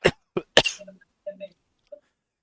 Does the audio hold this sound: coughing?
yes